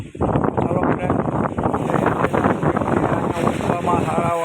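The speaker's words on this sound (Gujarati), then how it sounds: "અટરના રાજુલામાં ફૂલ વરસાદી માહોલ અને ફૂલ પવન." Strong wind buffeting the microphone in Rajula during a heavy rainstorm, a continuous loud roar and rumble with no break.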